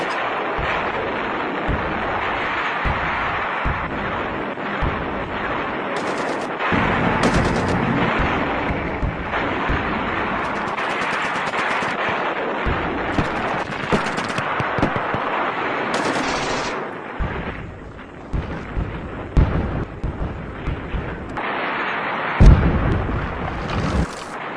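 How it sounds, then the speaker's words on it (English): Artillery and rocket guns fire without pause during the D-Day landings, with dense machine-gun-like bursts, booming blasts and sharp explosions packed into a loud, continuous barrage. "Some bearing artillery and rocket guns already opening fire."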